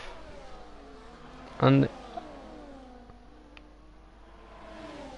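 Sim racing cars from an esports league round at Austria drive through a corner, engines droning steadily and moderately loud beneath a commentator's voice.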